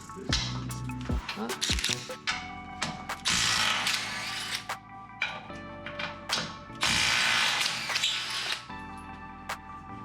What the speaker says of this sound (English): We're going to undo these 2 bolts, they're 17s.